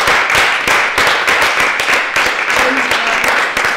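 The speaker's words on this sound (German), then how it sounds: "dann nochmal einen Applaus" Audience applause, with dense continuous clapping up close at a steady level for the whole stretch.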